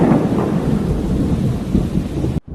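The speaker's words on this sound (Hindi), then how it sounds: "बाहर कितनी तेज बारिश हो रही है" Heavy rain pours down in a dense, loud, steady hiss with a deep rumbling low end like thunder, continuous and close, cutting off abruptly at the very end.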